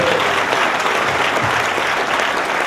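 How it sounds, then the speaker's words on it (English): A church congregation gives a round of applause for Jesus Christ after a prayer, a loud, dense, steady wash of clapping filling the whole stretch. "A round of applause for Jesus Christ."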